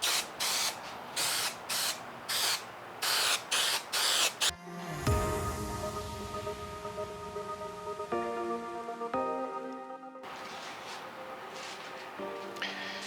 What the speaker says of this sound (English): Now I'm just going to spray this.